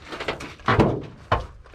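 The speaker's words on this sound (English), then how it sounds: "Can you even open the door? That looks pretty smashed in." Car door on a smashed-in, junked Infiniti G35 being forced open in an Arizona junkyard, heard as two close metallic thunks with creaky scraping between them, no talk.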